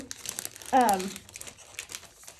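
A plastic package crinkles sharply for a moment as an item is pushed back inside, close to the microphone, with a person talking around it.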